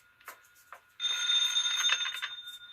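A telephone rings indoors: a steady electric bell trill starts abruptly about a second in and carries on for over a second before trailing off, preceded by a few faint clicks, with no voices.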